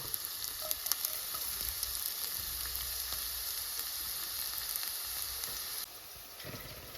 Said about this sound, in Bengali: এই রসুনটা আমি কুচি করে রাখছি, এগুলো এখন ভেজে নেব, ভেজে লাল করে নেব।